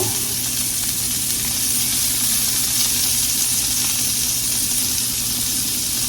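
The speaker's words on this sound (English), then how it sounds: "We're going to let these onions cook just a second here, okay?" Chopped onions fry in a hot pan for a steady, continuous sizzle and hiss, close and fairly loud, unbroken throughout with no talking over it.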